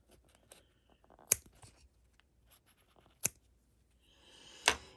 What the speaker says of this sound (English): I'm going to go ahead and cut my ends.